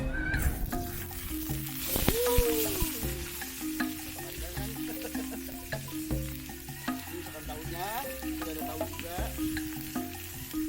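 Fish frying in a Teflon pan over a waste cooking-oil fire, with steady close sizzling and stirring scrapes under a low rumbling burn and a few clinks.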